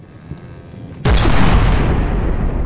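A turret cannon fires in the naval combat game From The Depths, a sudden loud boom that sets off a sustained, rumbling roar after a quieter lead-in.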